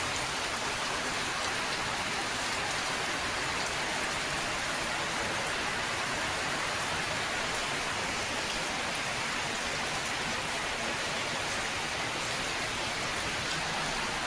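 Heavy rain pours steadily in a dense, even hiss, loud and unbroken throughout with no voices.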